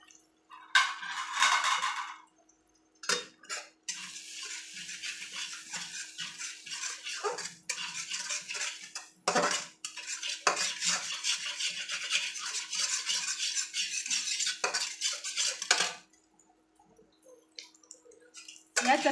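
Eggs being whisked with a spoon in a bowl, heard as bursts of rapid, close clinking and scraping strokes separated by short pauses, with faint voices at times.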